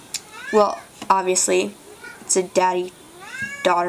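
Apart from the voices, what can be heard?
cat meowing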